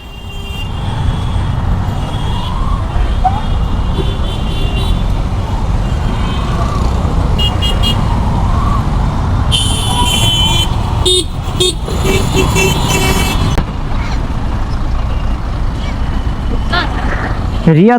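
Dense night-time city traffic on Bijoy Sarani in Dhaka, heard from a moving motorcycle, keeps up a steady loud roar of cars and trucks, with scattered horn toots and voices talking over it.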